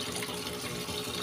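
Water rushes steadily into a washing machine filling for a laundry rinse cycle, a dense continuous hiss and splash heard close up with no talking.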